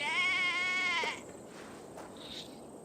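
A sheep in Assassin's Creed Valhalla lets out one loud, wavering bleat for about a second, followed by quiet ambience and a faint later sound.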